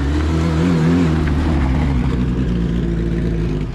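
A Hyundai i30 N and a small single-seater race car running on a racing circuit, a steady loud engine drone with a slight rise and fall in pitch, fairly near, no talk.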